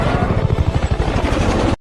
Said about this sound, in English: As the helicopter passes over a river, Salt jumps out